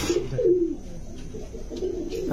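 Pigeons coo in a low, soft, rolling murmur, close by and fairly quiet, with a few faint higher chirps in the background.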